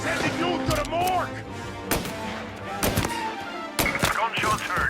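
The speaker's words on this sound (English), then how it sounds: "Gunshots heard." Rapid bursts of gunfire ring out in a Mafia Definitive Edition gunfight, sharp repeated shots scattered across a busy mix of game effects and shouted voices.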